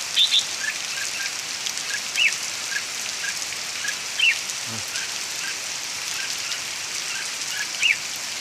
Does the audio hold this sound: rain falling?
yes